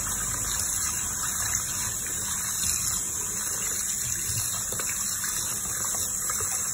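Water runs steadily from a tap over produce being rinsed for a banana kale smoothie, a continuous gushing splash with no talking.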